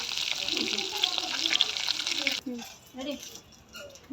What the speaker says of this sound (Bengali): তেলাপিয়া মাছটা একটু পোড়া পোড়া মানে পুরা কড়া আর কি ভাজি হবে